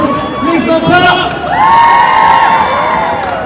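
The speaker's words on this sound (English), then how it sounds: "have a round of applause." Crowd at a pro-Palestinian street protest in Leeds cheering and whooping, with raised voices and shouts rising over a short burst of applause.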